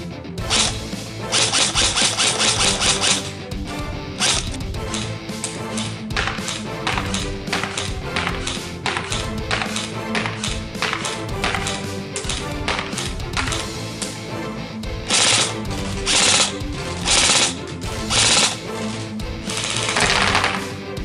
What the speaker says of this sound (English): let's head over to the 80 feet range and see how the gun shoots